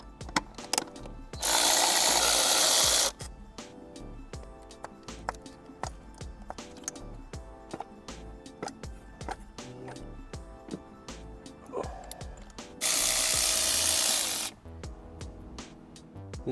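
A hand ratchet clicks on the 10mm ignition coil bolts of a 10th-generation Honda Civic 1.5L turbo engine in sporadic short bursts. Two louder whirring spells interrupt it, and the clicking is close and fairly quiet with no talk.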